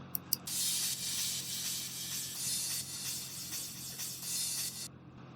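Crash cymbal hits in an emotional progressive house production, heard as a bright, hissing wash of sustained shimmer that pulses gently for nearly five seconds, with two quick ticks before it and an abrupt stop at the end.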